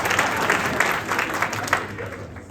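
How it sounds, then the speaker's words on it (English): Applause from a breakfast crowd for a guest speaker from the Council for Public Diplomats, steady dense clapping filling the room, with a voice faintly heard over it. "Yay, round of applause."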